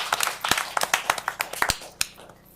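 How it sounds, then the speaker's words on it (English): A short burst of scattered hand claps at a board meeting, sparse and uneven rather than a full crowd ovation, fading out near the end. "let's give Ms. Ennis a round of applause for her accomplishments"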